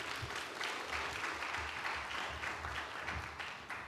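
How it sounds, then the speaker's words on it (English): Audience applause at a career expo, steady clapping from a crowd filling the room at moderate loudness, with low murmurs of talk beneath it throughout. "Another round of applause"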